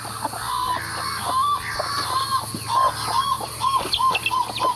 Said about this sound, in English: If you're wondering what bird's making that sound, it's a channel-billed cuckoo